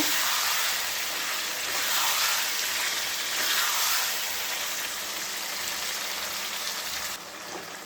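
Meat and spices sizzle steadily as they are stir-fried and browned in a pan, a close, continuous hiss and crackle with no voices.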